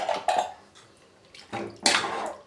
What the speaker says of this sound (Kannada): ನೀರು ಸೇರಿಸ್ಕೊಳ್ಳೋಣ ಇವಾಗ ನಾವು